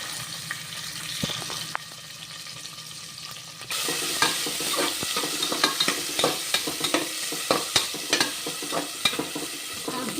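Chopped onions hit hot oil in a pan for coconut milk rice, and a loud sizzle bursts in partway through, carrying on close up with the regular clicks and scrapes of stirring.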